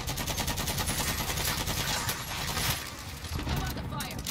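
Rapid gunfire in a Warzone match, including an M13 rifle, as dense bursts of automatic shots crackle almost continuously at close range, loud and unbroken for a few seconds.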